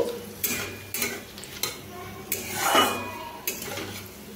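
Cashews stirred in a pan, a spatula scraping and clinking against the metal in repeated strokes, close up, over a faint sizzle with no talk.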